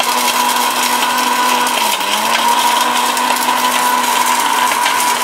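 Miyako electric curry cooker's blender motor grinding spice paste, a steady loud whine running without a break, its pitch dipping briefly midway as the load shifts.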